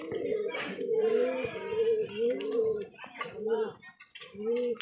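Pet-shop pigeons coo in low, rounded, repeated phrases close by, several overlapping calls with short pauses between them, with faint chatter in the background.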